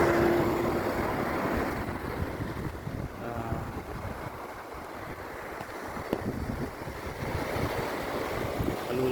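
Calm sea waves heard from a boat or coastal vantage near Aparri, a steady wash of surf mixed with heavy wind buffeting the microphone, fairly loud and continuous with no speech.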